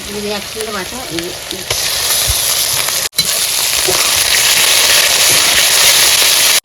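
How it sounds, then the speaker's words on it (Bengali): Fish curry spiced with cumin, chilli and ginger paste bubbling loudly in a pan on a village stove, a dense close sizzle that swells after a brief quiet start and cuts off sharply twice. "তরকারি ফুটে গেছে"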